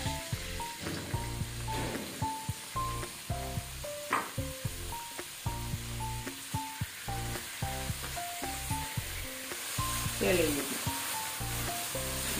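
Steady oil sizzle and crackle of chopped onion and garlic frying in a pan, with occasional stirring clinks, continuous and close, no talking.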